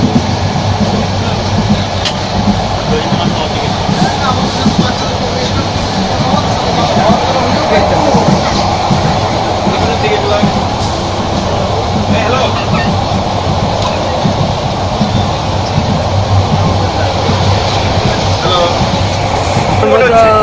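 Passenger train travelling from Dhaka toward Cox's Bazar, a steady loud rumble of wheels and carriage noise throughout with faint brake hiss, while voices talk over it.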